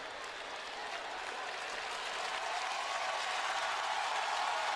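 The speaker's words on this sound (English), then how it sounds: "And listen to this crowd." Football stadium crowd at a Houston Texans versus Tennessee Titans game roars and applauds steadily, a dense, continuous wash of cheering that swells slightly louder toward the end.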